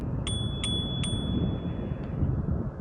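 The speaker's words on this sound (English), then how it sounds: "we don't have a horn on this guy, but we do have this bell" A small handlebar bell on a Navee V40 Pro electric scooter rings three quick bright dings in a row, then one fainter ding after a pause, over a soft outdoor wind rumble.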